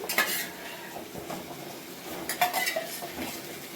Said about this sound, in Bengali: এবং আলু সব একদম কষিয়ে নিচ্ছি